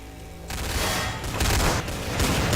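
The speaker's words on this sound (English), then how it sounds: "He's shooting right through the wall." Sustained video game gunfire as a player is shot at through a wall, loud dense bursts of shots and booms filling the whole stretch without a pause, with no talk over it.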